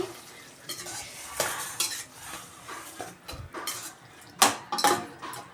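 A utensil stirs cucumber and tomato curry in a pan, with scraping and clinking strokes at an uneven pace and a couple of sharper knocks near the end, close by.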